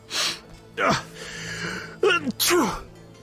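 A few sharp, breathy vocal bursts, sneezes from a character in The Witcher video game, come close together with short gaps and no speech around them.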